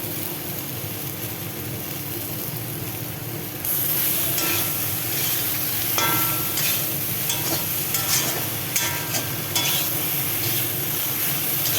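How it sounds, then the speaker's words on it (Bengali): Steady hissing sizzle of raw banana frying in a pan, growing louder partway through with occasional crackles and scraping, no voices. "কাঁচা কলাটা সুন্দর একদম লাল লাল করে ভাজা নিলাম"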